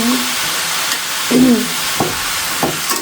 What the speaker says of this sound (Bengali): তরকারিটা আমি কষে ভালো করে ভেজে